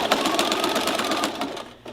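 A sewing machine runs a seam down a pot holder, its close, rapid mechanical stitching chatter steady for nearly two seconds before easing off.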